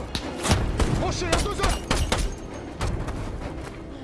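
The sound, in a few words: gunfire in a firefight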